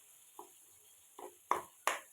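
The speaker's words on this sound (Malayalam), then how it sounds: "ഇളക്കി കൊടുക്കാം." A spoon stirs a tomato and shallot fish curry in a pan, four quiet scraping strokes that grow louder toward the end over a faint steady hiss of cooking.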